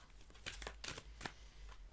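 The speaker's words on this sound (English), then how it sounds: "I hate this deck. It's so hard to shuffle." A deck of oversized tarot cards being shuffled, with soft papery riffles and slaps arriving in a few uneven bursts, close by and fairly quiet.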